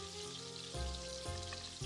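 Meatballs browning in a pan give a dense, close crackling sizzle that stays loud and constant, with brief low thumps as they are turned, no speech.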